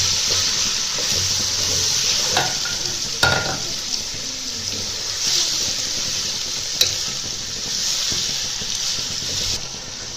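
Shredded cabbage being stir-fried and mixed in a pan, a constant loud sizzle with a few sharp scrapes and knocks of the spatula against the metal, close up and without speech.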